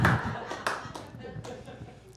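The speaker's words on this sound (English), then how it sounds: "I got a clap probably from my husband" A few scattered claps ring out from an audience member at a stand-up comedy show, brief and fairly quiet, with a voice talking over them.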